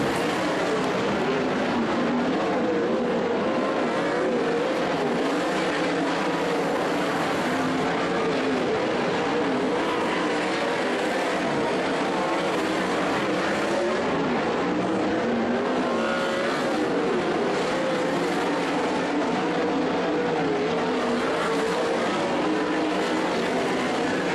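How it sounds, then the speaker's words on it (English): Sportsman race cars in a feature race at Skagit Speedway, a continuous loud roar of several engines droning and shifting in pitch as the field circles the track, with no voices. "And here we go with your A feature race for your Sportsman."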